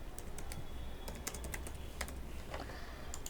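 A short run of light, close keystrokes on a computer keyboard as a product name is typed, the taps coming in a quick irregular patter over a faint background hum.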